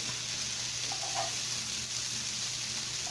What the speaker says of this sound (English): once the lamb is browned on all sides